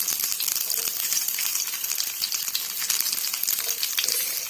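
Onion fries in a pan with a steady, close crackling sizzle and many tiny spattering pops throughout.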